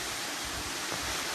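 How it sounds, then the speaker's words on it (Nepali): Bhikkung waterfall in Khotang district, Nepal, with its flow low in a dry season, gives a brief, even rush of falling water. The roar is close and steady, and no one speaks. "यो चाहिँ भिक्कुङ झरना"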